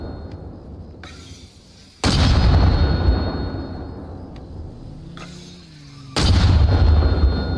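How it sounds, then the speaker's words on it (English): Mortar fire in the video game Arma Reforger during a competitive 20 vs 20 match, two heavy booming blasts with rumbling tails over a quieter battlefield background. "there's just like 1v1v mortar fight"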